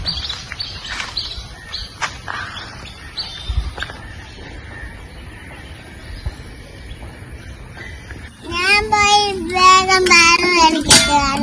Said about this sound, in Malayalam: കിളികളൊക്കെ അവിടെയാ.